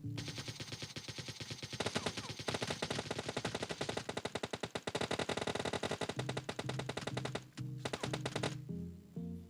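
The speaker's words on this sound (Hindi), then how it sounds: "अब तभी यहाँ पे फायरिंग चल रही थी।" Rapid automatic gunfire from the mobile battle royale game PUBG Mobile Lite, loud, dense bursts of rattling shots continuing almost without pause, with brief gaps and a few single shots near the end.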